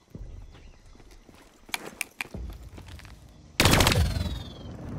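Turret gunfire in Call of Duty: Black Ops III, heard first as scattered sharp shots and then as a loud sustained burst from about 3.6 seconds, with vehicle and battle noise underneath.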